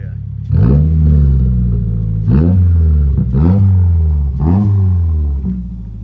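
Repeated throttle blips from a 2022 Subaru WRX with an Aeroflow Dynamics axle-back exhaust: four loud, close revs, each rising sharply and falling back to a rumbling idle, with no talking.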